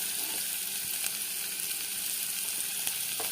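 Onions frying in oil for paneer bhurji make a dense, even sizzle that stays loud and close throughout, with faint clicks from the pan and no talk.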